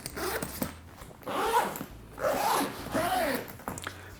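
A zipper on a Samsonite Pro-DLX 4 suitcase compartment being pulled closed in a few close, scratchy strokes, with short pauses between pulls.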